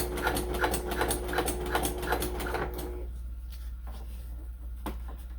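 A sewing machine runs at a slow pace, its fine rapid stitching steady for a few seconds before it stops, with quieter handling noises afterward.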